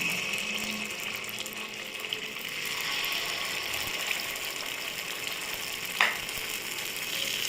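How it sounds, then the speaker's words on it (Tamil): Sweet rava paniyaram batter poured into ghee in the wells of a paniyaram pan, giving a soft continuous sizzle close by, with one brief sharp clink near the end. "இப்போ நம்ம பணியாரக்கல்லில் பணியார மாவை ஊற்றிக்கலாம்"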